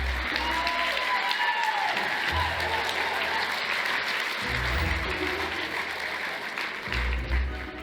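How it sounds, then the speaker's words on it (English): Lively applause from a crowd at a sales keynote carries on for several seconds, with low rumbling thumps underneath and a slight swell near the end. "Give her a big round of applause."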